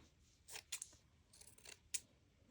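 Scissors trim paper for a snippet roll, a few quiet crisp snips in quick bursts close to the listener, with near silence between the cuts.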